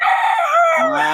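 A young gamecock stag crows once, a brief, bright, strained call at close range, at a gamefowl market in Bocaue.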